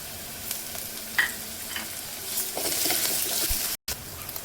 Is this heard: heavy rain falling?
no